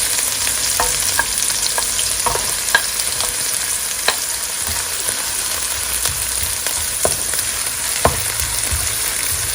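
Goat lungs browning in a pan for Filipino bopis give a steady, loud frying sizzle with scattered sharp crackles and pops throughout, no voices.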